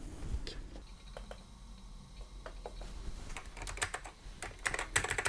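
An AT computer keyboard hooked up to a Commodore Amiga is typed on, giving a run of clicky keystrokes over a steady hum. The typing gets busier and louder near the end.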